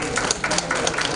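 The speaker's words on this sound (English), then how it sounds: "Let's have a round of applause to everyone." A summit audience breaks into a short round of applause, dense and steady clapping from a crowd filling the hall.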